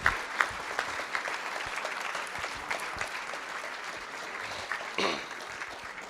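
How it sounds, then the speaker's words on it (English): An audience at a school district board of trustees meeting applauds academic students being called forward, a steady wash of many hands clapping at moderate distance, with a brief louder swell near the end. "give them a big round of applause for these fine academic students"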